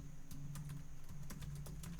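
Keys clatter on a computer keyboard in a quick uneven run of close, light taps over a low steady hum, with no voices.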